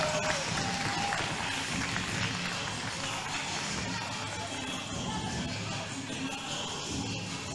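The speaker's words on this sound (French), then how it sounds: "Applaudissements pour Mathis" Crowd applause for rider Mathis at a U18 qualification event, a dense wash of clapping and crowd noise heard from some distance, steady and moderately faint throughout.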